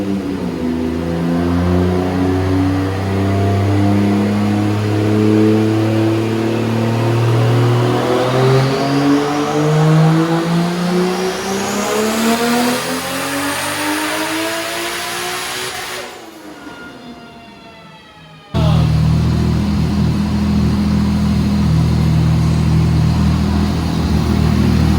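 A 2JZ-GTE single-turbo car engine revs hard through a long pull, its drone climbing steadily in pitch. It cuts out abruptly near the end and then roars back loudly, close and without any talking.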